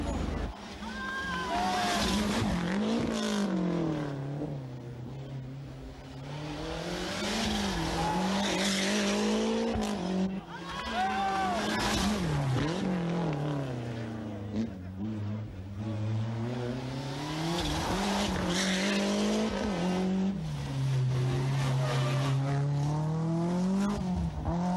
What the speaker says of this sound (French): La dramatique sortie de route d'Alex Furio.